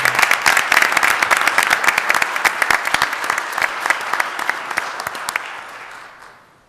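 Audience at a city council regular meeting claps for law enforcement in a sustained round of applause, dense and steady at first, then thinning and fading out at the end.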